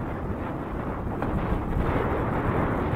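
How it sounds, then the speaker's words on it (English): Windy day outdoors, with steady broadband wind buffeting the microphone, growing slightly louder partway through and continuing without a break. "And once again, it's a windy day."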